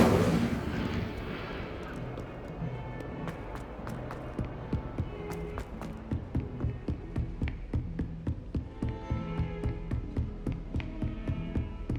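Hogwarts Legacy Incendio fire spell casting, a burst of roaring flame followed by a fast run of sharp rhythmic crackling pops that stay loud and close throughout, with background music underneath.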